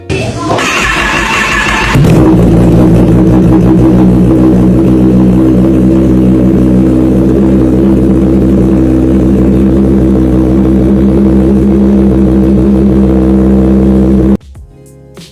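Kawasaki ZX-10R 998cc inline four-cylinder motorcycle engine, a loud close idle that jumps into a sustained high rev with a dense buzzing drone held for many seconds before cutting off abruptly; no talking.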